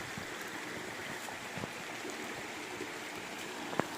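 A mountain spring stream flows at its source, giving a steady, even rushing wash of water with a faint splash or two and no voices.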